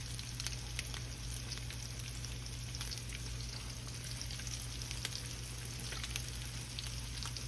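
Floured leftover fish cakes frying in hot oil, a steady close sizzle with fine crackling pops and a constant low hum underneath, no talking.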